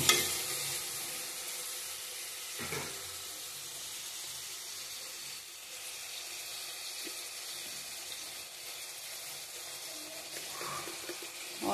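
Onions fry in a home kitchen pan with a steady, close hiss and sizzle, broken by a few light knocks from stirring.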